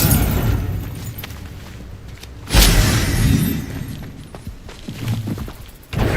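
An Incendio fire spell is cast in the Hogwarts Legacy video game, a sudden booming burst of flame midway that fades into rumbling game ambience, with a smaller thump near the end.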